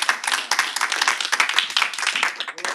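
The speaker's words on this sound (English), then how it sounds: "Round of applause for all of you." Dense, continuous clapping from a room full of people at a talk, with many overlapping hand claps in a steady broadband patter throughout.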